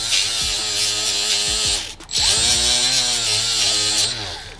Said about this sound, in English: I use my little whiz wheel here. It's got like 320 grit on it